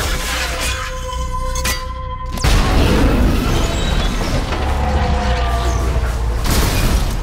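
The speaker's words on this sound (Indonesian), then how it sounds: "nah dia malah nembakin disc grenade-nya ke mobil Red Guardian dan ngeledakin mobil mereka." A disc grenade blows up a car in the film Thunderbolts: a sudden loud blast cuts in after a tense stretch, then rolls into a dense, sustained roar of fire and debris with no talk.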